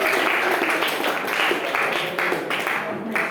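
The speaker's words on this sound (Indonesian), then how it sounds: "tepuk tangan lah" Classroom applause during a biology lesson in Indonesia, a steady burst of many hands clapping together across the whole clip, fairly close and full, with faint voices mixed in.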